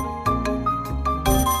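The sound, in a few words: phone ringing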